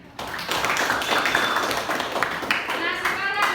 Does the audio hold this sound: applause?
yes